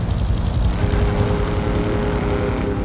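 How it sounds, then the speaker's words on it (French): A helicopter in GTA3 drones loud and close, its rotor chop pulsing steadily throughout with no voices over it. "Ok, il y a un hélico, c'est bien."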